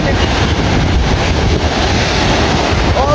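Sea waves breaking and washing in steadily with loud wind buffeting the microphone, a constant close roar of surf and spray, no clear speech.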